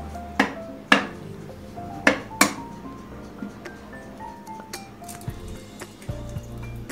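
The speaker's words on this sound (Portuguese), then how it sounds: "Agora eu vou quebrar o ovo." Several sharp cracks and taps of an egg against a hard edge, close by, followed by faint wet squishing and clinking in a quiet kitchen.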